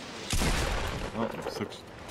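Rocket explosions in the Fortnite battle royale video game, a loud booming blast hitting suddenly, followed by rumbling debris and further smaller bursts, heard close with a player's voice over the game audio.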